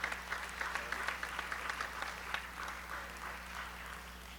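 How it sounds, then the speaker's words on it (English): Audience at a city council meeting applauding, a steady round of clapping from a modest crowd that continues evenly for several seconds, mid-distance. "aplauso, por favor"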